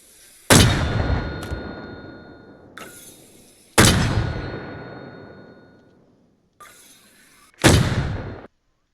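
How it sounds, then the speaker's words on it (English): Three loud, booming shots from an M252 mortar in the military game Arma Reforger, each a sharp blast followed by a long decaying rumble, with quieter metallic clanks between firings. "This time we'll fire three rounds."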